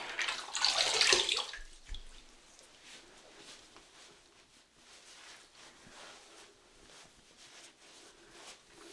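Water splashing during a face rinse after a wet shave, a brief burst of running and splashing water at the start that fades to a quiet room hiss.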